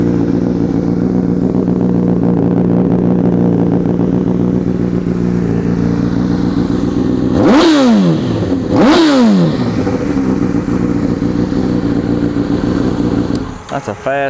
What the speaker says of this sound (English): That's a fast revving motor.